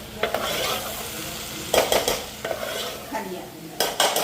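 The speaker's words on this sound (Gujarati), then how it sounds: "ચાલો આજે અમારે બંને ડુંગળીના વઘારી" Onions tempered and fried in a pan, a steady close sizzle of oil with intermittent spoon scrapes and clatters against the metal pan, no talking.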